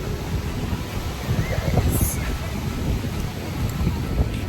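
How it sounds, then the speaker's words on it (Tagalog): Blustery wind at an overcast Boracay beach in the Philippines, a steady broadband rush of gusts buffeting the microphone, with faint surf mixed underneath throughout. "Mahangin lang pala talaga."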